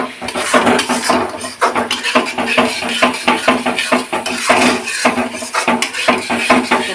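Kashmiri chili powder being stirred and fried in a pan, with a spatula scraping and clattering against the metal in quick, continuous strokes under a steady background of cooking noise; no one speaks.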